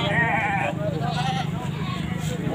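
Goats bleat at the Asembagus livestock market, with a wavering bleat early on over a busy background, while people talk nearby.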